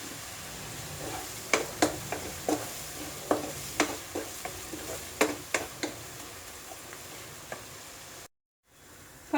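Masala paste for a brinjal curry being sautéed and stirred in a pan, a soft steady sizzle broken by sharp irregular scrapes and taps of a spoon against the metal, close by, with a brief dropout near the end.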